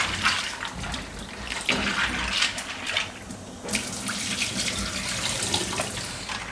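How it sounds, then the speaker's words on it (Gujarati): Plain tap water runs steadily over pasta as it is rinsed in a kitchen sink, a loud, continuous close-up gush with small splashy surges and no voices. "ખાલી સાદા પાણીથી આ રીતે ધોઈ નાખવાનું"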